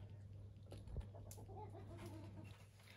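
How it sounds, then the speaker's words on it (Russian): Soft clucking from roosters, a few scattered calls and rustles over a low steady hum, quiet and at some distance. "не трогай петухов"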